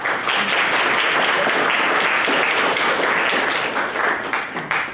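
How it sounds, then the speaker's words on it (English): An audience at a senior reading event claps together in a full, sustained round that stays loud and even for several seconds, then begins to thin near the end. "We'll clap for that."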